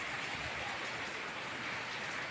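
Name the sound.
rain falling during a storm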